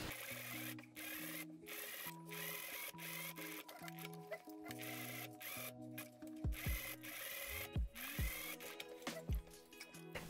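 A sewing machine gathers skirt fabric along a waist seam in short runs of mechanical whirring, separated by pauses and small handling clicks, close and moderately quiet.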